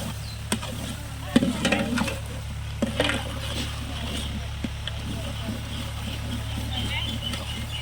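Tomato gravy with mint and coriander is stirred in a pot for beef biriyani: a few scattered spoon scrapes and knocks over a low steady hum, fairly quiet and close.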